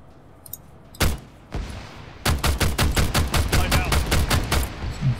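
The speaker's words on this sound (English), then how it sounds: "Big old gun." Heavy gunfire in Arma 3: two isolated loud shots, then a rapid rhythmic burst of about a dozen close, powerful reports in steady succession, with no talk.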